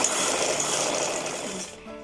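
A sewing machine stitching the neckline of a suit or kameez, sewn from the centre along buckram, runs in one steady close-up whir for nearly two seconds, then stops abruptly.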